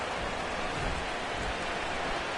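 Steady, dense rain pours down during a New York Jets vs Arizona Cardinals football broadcast, a constant loud hiss with no voices.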